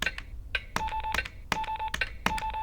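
A short electronic alert sound effect marking a meet record, made of rapid repeated beeping tones in quick clustered bursts, crisp and alone.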